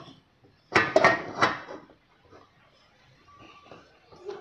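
A steel pot set down atop a pot of hot water on a home kitchen stove gives a few close metallic clanks and scrapes in quick succession, followed by quiet handling noises and a soft voice.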